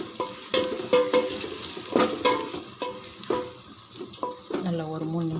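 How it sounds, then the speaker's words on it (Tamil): Four large tomatoes sauté in oil for chicken biryani, a moderate sizzle under repeated metallic scrapes and clinks of a spoon stirring against the pot in an uneven rhythm. "நல்லா ஒரு 3 நிமிஷம் வதங்கட்டும் ஃப்ரெண்ட்ஸ்"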